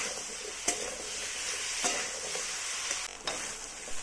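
Potatoes and soya chunks are stirred in a frying pan over a steady, fairly quiet sizzle, with a few spatula scrapes and knocks spaced about a second apart.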